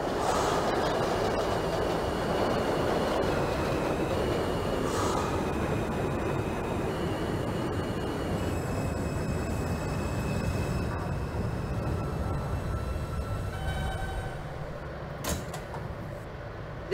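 Simulated R160B subway car on a Manhattan-bound F local, running steadily with a continuous low rumble and hum of motors and wheels that eases slightly near the end; no voices.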